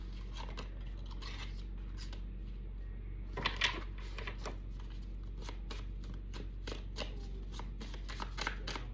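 Tarot cards from a spiritual select deck being shuffled and drawn, with soft riffling flutters and crisp card snaps, fairly quiet and close over a low steady hum.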